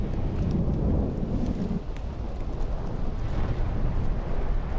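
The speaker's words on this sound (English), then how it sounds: "Radiation storm, I have no idea it exists in this game." A radiation storm in the video game Fallout New Vegas rolls as loud, continuous low rumbling thunder with a dense roar of rain-like noise, swelling and easing slightly throughout.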